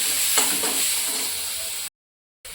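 Yogurt mushroom masala sizzling in a pan while it is stirred, a steady loud frying hiss with a few soft scraping strokes, briefly cut to silence before resuming.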